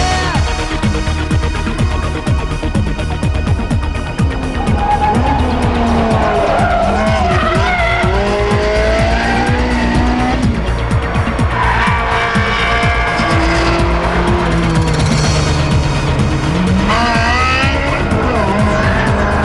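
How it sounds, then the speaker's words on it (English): A Ferrari 360 Modena with an F1 gearbox, traction control off and suspension in sports mode, is driven hard around the Fiorano circuit. Its engine roars loudly and continuously, with repeated sharp tire squeals through the corners and no talking. "Time to switch off the traction control, put the suspension in sports mode, and put the handling to the test on Ferrari's own Fiorano circuit."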